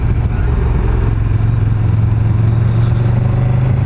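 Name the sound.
motorcycle engine while riding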